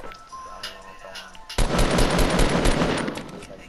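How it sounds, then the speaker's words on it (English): Fortnite in-game weapon fire, a sustained rapid-fire burst that erupts abruptly midway and keeps hammering loudly to the end, preceded by a few scattered lighter pops, with some voice chat in the background. "Who's shooting?"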